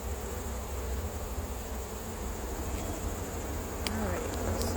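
A low, continuous drone of many honey bees around an open hive while frames are pulled for honey, a faint steady hum with no talk over it.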